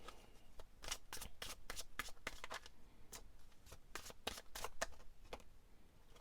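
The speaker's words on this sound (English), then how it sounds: "I've shuffled this" Tarot cards being shuffled by hand, a quick series of close, crisp riffling and slapping card sounds in an uneven rhythm, alone without talk.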